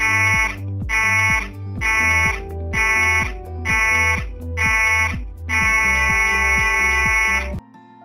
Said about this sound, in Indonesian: Jika Anda mendengar alarm pendek 7 kali dan panjang 1 kali